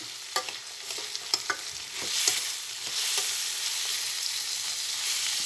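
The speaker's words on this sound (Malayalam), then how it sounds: "ഈത്തപ്പഴം കട്ടക്കായവും ഒന്നിച്ച് ഇളക്കണം" Dates are stirred into chow chow pickle in a pan: a few sharp scrapes at first, then a steady, close sizzle of the mixture cooking, with no voices.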